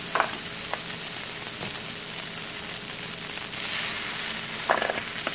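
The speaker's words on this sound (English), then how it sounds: "we'll give that a good mix with all that bacon in there" Cooked al dente spaghetti tossed with bacon in a skillet: a constant sizzle and fry with a few scraping, clattering stir sounds at the start and end, with no voices.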